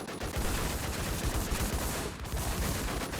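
Rapid gunfire in a shooting video game, a dense, fast stream of sharp shots rattling continuously with a brief lull near the middle, loud and close.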